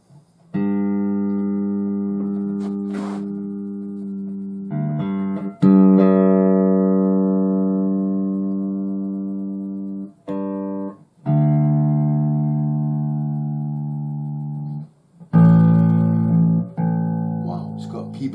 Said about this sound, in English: Wow, it's got P-bass sound, man.